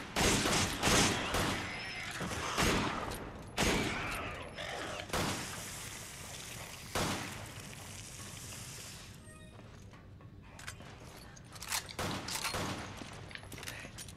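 Sharp, loud gunshots ring out in Resident Evil 5, several spaced cracks in the first seconds and one later, with game noise and faint voices in between.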